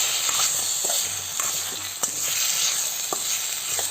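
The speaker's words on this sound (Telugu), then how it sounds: "ఇవన్నీ ఇలాగే ఆయిల్లో లో ఫ్లేమ్లో పెట్టే ఫ్రై చేసుకోవాలండి." Tomatoes and garlic frying in oil over a low flame in a kadai, a soft steady hiss and sizzle with a few light clicks of a spoon stirring, close by and without talk.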